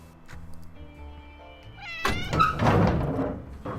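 Angry house cat in the 60 Seconds survival game giving a sudden loud yowling meow after a heavy thunk, over a soft game music background.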